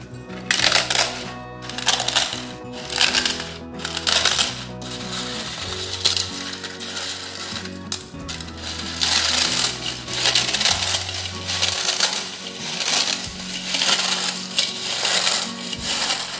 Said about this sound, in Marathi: आता आपण याचा जाडसर असा चुरा करून घेऊ